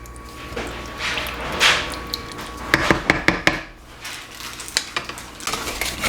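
A spoon stirs fire roasted diced tomatoes into a pot of taco soup, giving soft scraping and a cluster of sharp clinks against the pot, close up with no talking.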